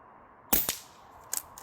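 A bullpup airgun fires at targets during a shooting challenge, with two sharp cracks close together followed by a second pair a moment later, each crisp and dry against a quiet background.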